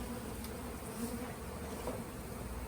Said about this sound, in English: Come on, bees.